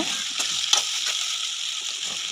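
Plantain slices fry in hot oil with a steady, bright sizzle, broken by occasional scraping clicks as they are stirred continuously in the pan.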